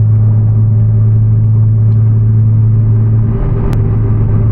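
A lowered Toyota Supra cruises along a snowy road, its engine a steady low rumble heard from inside the car, even and continuous with no voices.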